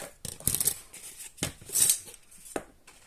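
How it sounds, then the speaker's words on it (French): Scissors snip through stiff kraft paper in several quick, crisp cuts with short pauses between, close and fairly quiet. "Ciseaux."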